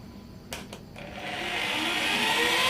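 Dish soap concentrate mixture being stirred with an electric mixer after water is added, a steady whirring drone that builds in loudness and holds. A few clicks and knocks come just before it starts.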